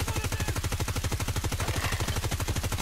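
A video-game gun fires in a continuous rapid-fire burst of loud, evenly spaced shots, close and without a break.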